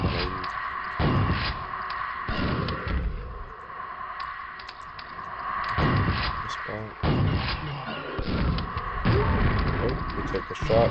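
Gunshots and explosions in the video game Quake: repeated booming blasts and thuds over a low game soundscape, fairly loud and close, with bursts spaced a few seconds apart.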